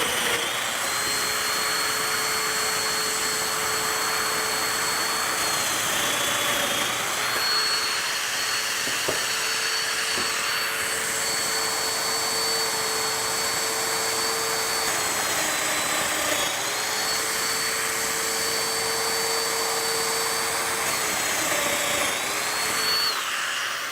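A Festool Domino joiner whines steadily and loudly for the full stretch while joining cedar for an outdoor dog bed, its pitch dipping briefly at intervals as the cutter loads up in the wood.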